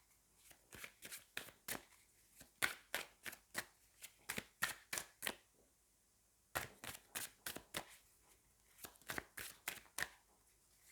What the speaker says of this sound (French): Allez, on va prendre 3 cartes.